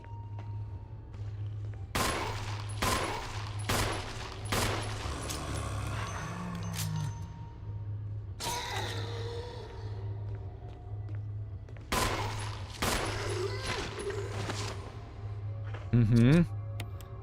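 Gunshots in the Resident Evil video game, a series of sharp separate blasts spaced over several seconds, with a low steady hum beneath and a person talking at points.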